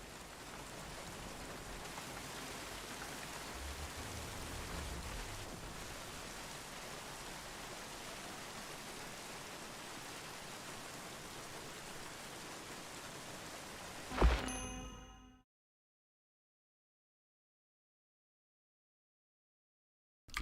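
Steady pouring rain in the video game The Bureau: XCOM Declassified hisses evenly for about fourteen seconds, then a brief thump and the sound cuts off into silence.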